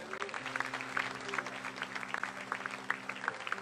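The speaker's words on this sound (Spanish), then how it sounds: "yo no sé si tú puedes darle un fuerte aplauso al Señor ahí" A church congregation applauds, a dense wash of many hands clapping steadily and fairly quietly for several seconds over a low sustained organ or keyboard tone.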